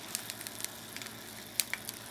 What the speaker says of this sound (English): I think that's boiling.